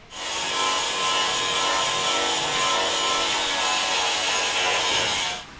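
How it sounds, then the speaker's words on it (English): An electric sander grinds acid residue off the metal chassis of a 1956 VW Beetle, a continuous harsh abrasive rasp that runs steady and loud for about five seconds before cutting off. "So I'm going to get the sander and sand it away."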